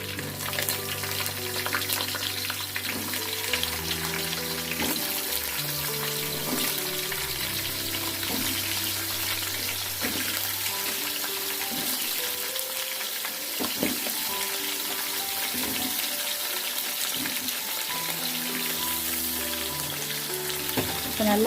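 Seema kathrikai, chopped and tossed into hot oil with already-crackled curry leaves in a pan, fries with a steady close sizzle while a spoon stirs and scrapes through, and music plays underneath.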